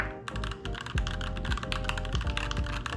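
Rapid typing on a Yunzii YZ75 wireless mechanical keyboard with Yellow switches produces a close, steady stream of crisp keystrokes with periodic deeper bottom-out thuds, loud and with no voice.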